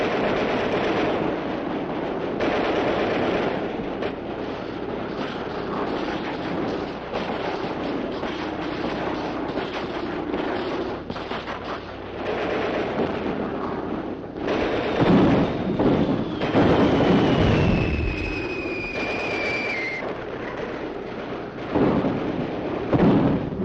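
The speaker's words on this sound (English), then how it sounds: "Under cover of Russia's heavy artillery" Heavy Russian artillery fire during the 1941 fighting near Rostov, heard as deep booming thuds and rumbling blasts over a continuous roar, with a falling whistle before a louder burst near the end.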